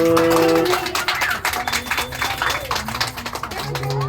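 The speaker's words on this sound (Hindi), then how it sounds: "ताली बजा दीजिए बच्चा लोग।" Children clap hands in uneven, scattered taps during a Basant Panchami celebration in a Ranchi home, alongside singing and chanting voices.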